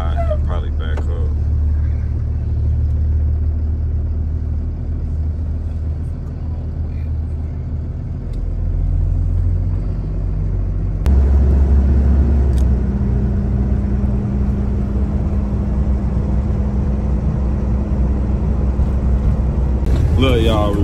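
A 26 ft box truck rolls along, its engine rumbling low and steady inside the cab, with a shift in engine load about halfway through and a brief voice at the end.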